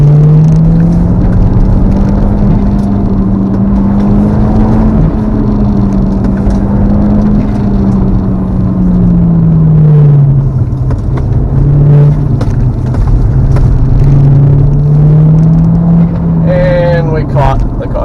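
A car with upgraded sway bar bushings drives along a winding road, its engine hum rising and falling steadily with speed, close and loud beneath someone talking.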